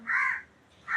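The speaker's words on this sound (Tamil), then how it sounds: "கரெக்டாக இந்த பாட்டு படிக்கும்போது காக்கா என் கூட சேர்ந்து படிக்கும்." A crow caws loudly nearby, one drawn-out caw followed after a short gap by the start of another, with no voices.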